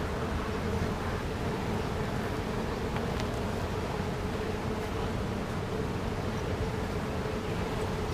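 Honeybees buzzing around an opened hive during a frame inspection of a successful split, a steady dense hum that holds evenly throughout with no talk over it.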